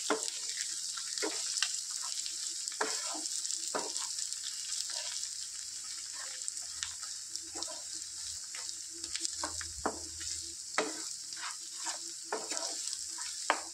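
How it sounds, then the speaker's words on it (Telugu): Chicken frying in coconut oil with turmeric in the pan, a continuous bright sizzle close up, broken by irregular clicks and scrapes of stirring throughout, no one talking. "దీన్ని ఫ్రై చేసుకుందాం"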